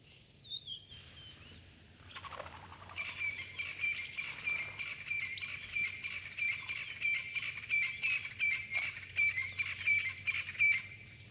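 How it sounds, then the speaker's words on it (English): Morning birdsong in an African safari setting where elephants roam: repeated high chirping calls pulse steadily alongside insect-like trilling, moderately near, over a low background hum with no voices. "the bird life, just unbelievable this morning"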